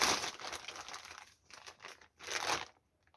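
Plastic bag from a gift parcel being handled, crisp crinkling and rustling in several bursts with brief pauses, close and fairly quiet.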